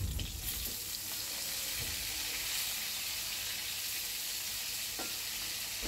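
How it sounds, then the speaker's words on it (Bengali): Fish frying in hot oil in a kadai, turned to crisp both sides, gives a steady close sizzle with faint crackles and light stirring scrapes throughout, with no talking. "তো এপিট ওপিট করে দুটো সাইড ভালো করে ভেজে নিচ্ছি আমি।"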